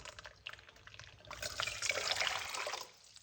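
Hot water pours into a medium-sized pot, a soft splashing stream that builds in the middle and tapers off, fairly faint and close, with no talking.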